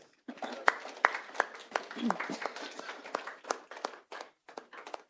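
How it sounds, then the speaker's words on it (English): Scattered applause from a panel audience at an accessibility event on AI design: sparse, distinct individual claps spread across several seconds, with some talking mixed in. "A round of applause for Deepti, everyone."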